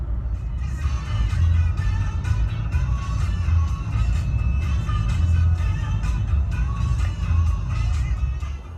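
A 2016 Harley-Davidson Forty-Eight motorcycle rides along, its engine a steady deep rumble with road and wind noise, loud and continuous throughout.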